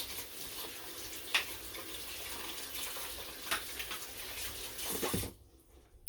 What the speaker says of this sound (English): And yes, I am washing my hands once again.